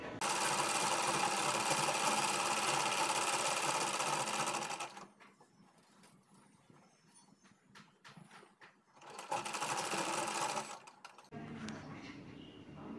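Domestic sewing machine stitching a designer kurti, running in loud steady bursts from the start to about five seconds, again around nine to eleven seconds, with quieter handling noises between and after.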